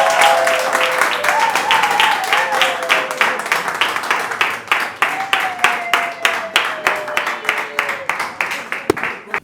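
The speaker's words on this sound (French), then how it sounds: "Je vous applaudis et vous remercie." An audience claps through an applause that starts dense and settles into a slower, rhythmic, almost unison clapping, with a voice speaking over it in the first part.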